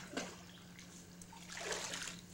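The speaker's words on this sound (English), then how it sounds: "you get this thingies, and you fill it with water!" A small container is filled with water, with two short bursts of pouring and splashing separated by a quieter gap, close and fairly faint over a faint steady hum.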